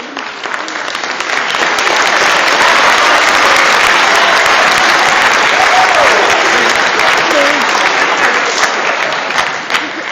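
Loud, sustained keynote audience applause at a youth summit that builds in the first couple of seconds and then holds steady, a thick wash of many hands clapping.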